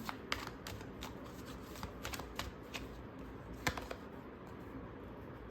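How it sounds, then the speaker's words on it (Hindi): Tarot cards being shuffled by hand, with cards slipping and falling out, giving a quiet, irregular run of soft riffling and flicking snaps close up, with no talk. "कार्ड्स बहुत ज़्यादा गिर रहे हैं।"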